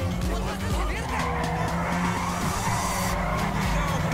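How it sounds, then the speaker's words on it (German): Tyres squeal and skid as a car slides out during driving in GTA V, a sustained screech over engine roar that lasts the whole moment, with no pause in the noise. "der fährt sich doch nicht so gut. Der bricht doch leicht aus."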